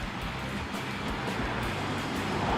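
Road traffic of cars and trucks produces a continuous, fairly loud broadband roar with no distinct single pass standing out, and no voices are heard.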